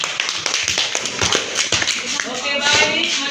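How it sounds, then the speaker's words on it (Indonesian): Students in an Indonesian classroom give a brief round of applause, with scattered, uneven claps close by and voices mixed in for a few seconds. "tepuk tangan."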